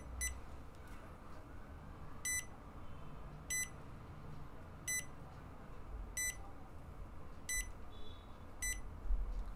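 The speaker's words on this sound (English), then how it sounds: "I will switch on the buzzer using this switch here." An eye-blink detector built with a BioAmp EXG Pill sounds its switched-on buzzer in short, sharp electronic beeps, seven of them spaced about a second apart, each triggered by a blink, over a quiet room hum.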